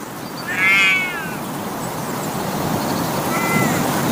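A tiny kitten meows at a goat: one clear, fairly loud meow near the start, then a second, fainter and shorter meow a few seconds later, over a steady outdoor background hiss.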